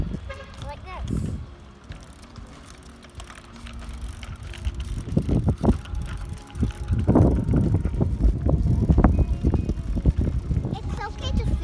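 A child rides a bicycle outdoors with one foot on a pedal and the other on the ground, giving faint rolling and rattling with wind noise, while an adult talks throughout.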